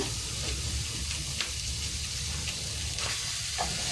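Tomato paste sizzling in a soup pot for a Calabrian bean and rice soup, a constant close frying hiss with faint stirring scrapes and small ticks throughout.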